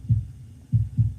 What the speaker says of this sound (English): My heart is beating